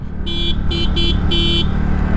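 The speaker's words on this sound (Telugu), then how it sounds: "ఇంకోటి ఏంటంటే దీనికి హార్న్ కూడా చాలా బాగుంది." A TVS Ntorq 125 scooter horn beeps four times in quick, uneven bursts over a steady idling engine hum, loud and close.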